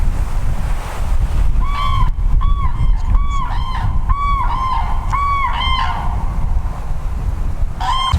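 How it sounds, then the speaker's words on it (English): Large geese honk repeatedly as they fly in, their nasal calls coming in irregular clusters over a heavy wash of wind and surf rumbling across the microphone outdoors. "Big birds coming in."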